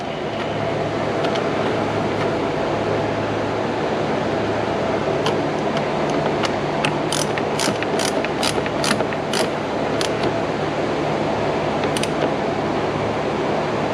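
A ratchet tightens a plastic part during a water pump replacement on a 2005 Dodge Ram 1500 SLT with a 5.7 HEMI, giving a burst of quick, crisp clicks midway through, close up over steady background noise.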